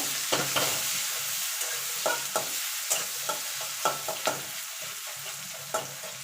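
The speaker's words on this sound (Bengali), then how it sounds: "পেঁয়াজটাকে এবার লাল লাল করে ভেজে নেব" Chopped medium-sized onion frying in a pan for a Bengali moong dal with fish head, a steady low sizzle punctuated by sharp, regular spatula scrapes and knocks as it is stirred.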